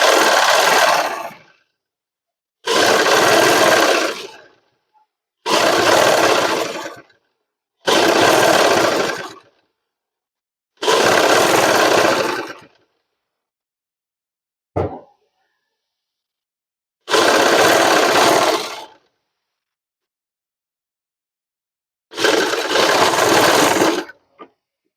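A sewing machine stitches a band of fabric onto a shirt collar with piping, running in about seven separate bursts of a second or two each, with quiet pauses between runs and one sharp click midway.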